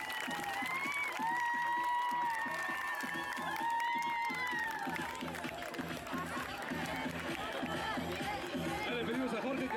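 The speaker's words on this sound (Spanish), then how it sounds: "Un fuerte aplauso para él." An audience at a San Juan Cosalá 2012 award ceremony applauds amid crowd chatter and a voice over a loudspeaker, with a faint rhythmic beat underneath and clapping that swells toward the end.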